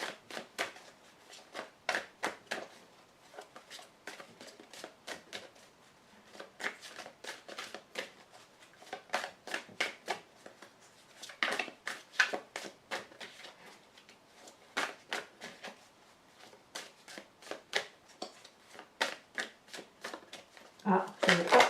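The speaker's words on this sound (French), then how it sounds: "Je prends 5 cartes." Tarot cards being cut and drawn from a deck, a rapid series of crisp card snaps and riffles across the whole stretch, close and fairly quiet, with speech mixed in.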